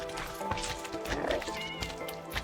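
A cat mob meowing in the Minecraft video game, short mewing calls rising over a busy, cluttered game soundscape with other mob noises close by.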